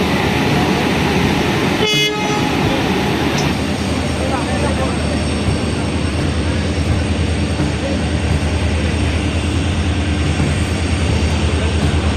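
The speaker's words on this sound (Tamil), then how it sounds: "நம்மளோட டபிள்யூடிபி ஃபோர் டி வந்து பிளாட்ஃபார்முக்குள்ளே கொண்டு வராங்க" WDP4D diesel locomotive pulling into a station platform, a loud continuous rumble of engine and rolling wheels with a short horn-like blast near the start and someone talking over it.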